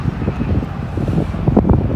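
Gusty wind buffets loudly across the microphone, a continuous low rumbling roar with uneven surges for a couple of seconds.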